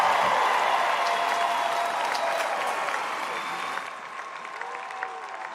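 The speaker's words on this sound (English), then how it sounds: "How about one more round of applause for the class of 2020?" Crowd applause at a high school graduation ceremony, a broad steady wash of many clapping hands in a large venue that gradually thins and fades toward the end.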